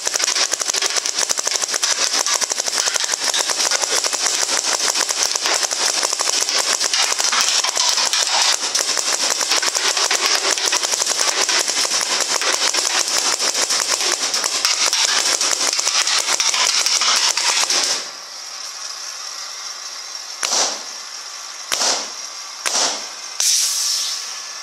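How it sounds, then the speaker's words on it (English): A DM15 paintball gun fires rapidly on semi-auto, a dense stream of pops and air hiss running about eighteen seconds, then several separate shots. "Let's give it a whirl. We're just going to see how quick I can get it going."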